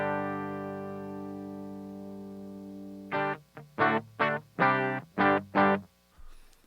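Electric guitar played through a Line 6 HX Effects unit on a vintage amp channel with no boost and reverb on: a sustained ringing chord, then a run of six sharp rhythmic chord stabs with short reverb tails, close and clear.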